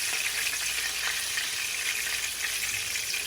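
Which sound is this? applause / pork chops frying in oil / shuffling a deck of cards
pork chops frying in oil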